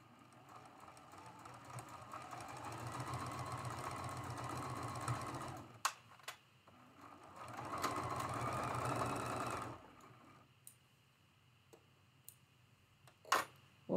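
A sewing machine stitches quilt block pieces in two quiet runs of rapid, steady whirring, separated by a brief stop, with light clicks and fabric handling afterward.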